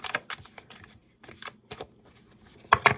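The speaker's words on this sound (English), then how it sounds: "I'm gonna shuffle 3 times." Tarot cards are shuffled in a few quick, soft riffling bursts with short pauses between, close and fairly quiet.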